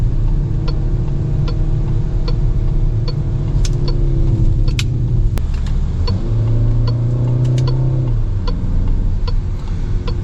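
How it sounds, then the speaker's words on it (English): Peugeot 5008 engine on a 2022 model, quick paddle-shift downshifts bringing steady revving hum with rising and falling tones, heard from inside the cabin with faint ticking and no talk. "5008 has paddle shifters. Shifting is pretty quick. Downshift."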